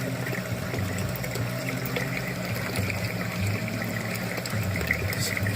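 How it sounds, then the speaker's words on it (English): Water spills steadily from a protein skimmer outlet into a DIY 55-gallon Aqueon aquarium sump, making a small waterfall: a continuous, even trickle and splash close by, with a low pump hum underneath and no talking. "outlet on the skimmer is actually pushing the water over, so we're kind of getting a little waterfall action here"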